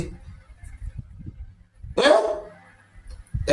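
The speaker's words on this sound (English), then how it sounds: "you hear the sound of at least one of those dog barking" A single dog bark rings out mid-distance, sharp and brief, among low murmuring and faint background noise.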